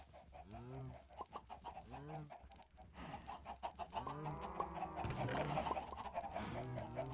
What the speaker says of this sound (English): There's our chicken farm.